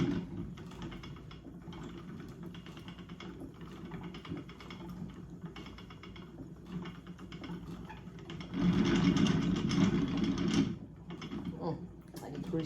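A spinning wheel turns while yarn is spun, producing a steady, rhythmic mechanical whirr and clatter that swells louder for a couple of seconds near the end.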